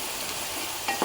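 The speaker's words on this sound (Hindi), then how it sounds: "अब इसको सुनहरी रंगत आने तक दोनों प्याज को मैं भूनूंगी" Onions frying in oil in a pan with cashews, a short burst of steady sizzling with a couple of stirring scrapes near the end.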